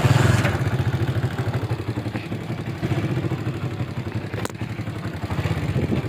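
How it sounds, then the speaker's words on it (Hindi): A motorcycle engine idles close by with a steady, low, pulsing rumble and some clatter, running continuously without letup. "ये है अपनी बाइक"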